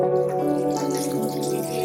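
Fresh thankuni (pennywort) leaves rinsed by hand in a home kitchen, water splashing and dripping steadily and close for under two seconds with no voices.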